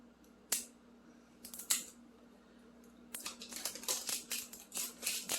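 Scissors snip a few times, then a quicker run of crinkly cuts through thin shrink wrap on a Scentsy fragrance flower, close and fairly quiet with a low steady hum beneath.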